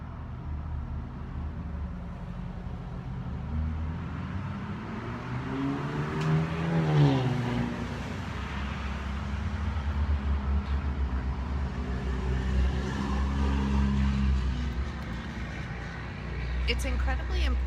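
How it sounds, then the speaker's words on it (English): A vehicle engine rumbles and swells as it passes nearby, with a steady low drone throughout and a person talking over it. "I've got a loud truck about to go by."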